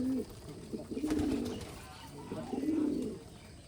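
Two soft, low coos from Giribaz racing pigeons feeding on maize and wheat close by, each a rolling throaty call, separated by a short pause.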